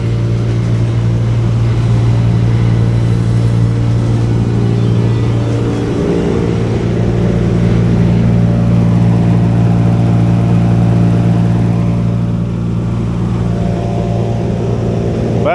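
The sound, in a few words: engine of a 100 horsepower machine running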